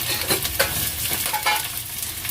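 Onion hits hot oil with bay leaf, cinnamon and cardamom, giving a dense crackling sizzle with brief stirring clatters, close and continuous with no voices.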